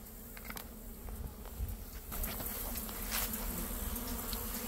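Bees buzzing at a beehive, a soft continuous insect hum close by with faint rustling, growing slightly fuller partway through.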